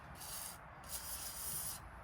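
Penetrating lubricant hisses from an aerosol can in two sustained bursts, sprayed onto parts of a Datsun/Nissan 720 pickup truck bed during a rebuild, close and steady over a low background rumble.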